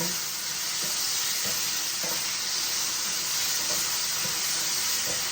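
Vegetables sizzle steadily in a hot pan, a loud continuous hiss and crackle with faint soft scrapes as they are stirred.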